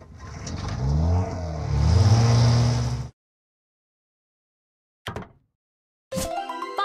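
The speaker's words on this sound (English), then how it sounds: "Lifeboat." A lifeboat engine in a kids' transport video game roars and revs loudly for about three seconds before cutting off to silence, followed by a brief click and a short tonal game jingle.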